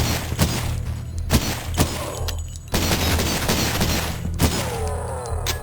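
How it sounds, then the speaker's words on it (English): An enemy fires off a handful of rounds in the shooter Cultic: sharp, loud cracks spaced irregularly over a low droning bed, with a brief burst of shots and some clattering debris between them. "Thankfully, he only fires off like 4 rounds instead of the whole magazine"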